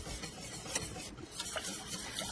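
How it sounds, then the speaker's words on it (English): A whisk scraping and stirring around a pot as a butter pecan dessert filling thickens on the stove, soft continuous rubbing strokes with light metallic ticks, close but quiet. "I'm going to stir it until it thickens up."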